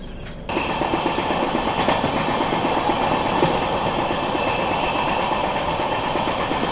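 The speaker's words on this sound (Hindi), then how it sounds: "लिच्छवी एक्सप्रेस अभी यहाँ पे किसी ट्रेन को ओवरटेक करके निकली है।" The Lichchhavi Express runs past on nearby rails, a loud, steady rumble and rattle of wheels and carriages that fills the whole span, starting abruptly and staying constant with faint rhythmic clatter.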